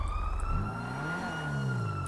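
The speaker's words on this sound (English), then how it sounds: "I hear their sirens. Yeah, they're nearby." A police car siren wails at a distance in the city, its steady tone drifting slowly in pitch over traffic rumble, faint and continuous.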